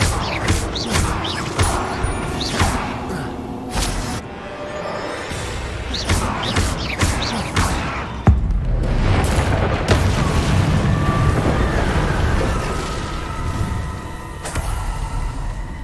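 Bombarda spell blasts in Hogwarts Legacy combat, with several sharp booming explosions and crashes amid dense game battle noise, one heavy burst near the middle followed by sustained rumbling effects.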